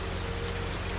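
Rain falls steadily in the farming video game Farming Simulator 19, a dense, even patter on surfaces that stays constant and fairly loud throughout, with no speech.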